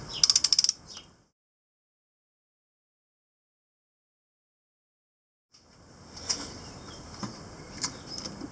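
Ratcheting clicks from an angle torque wrench tightening cylinder head bolts on a Mitsubishi 4G93 engine: a quick burst of ratchet clicks, a long silence, then quieter mechanical creaks and clicks in a workshop.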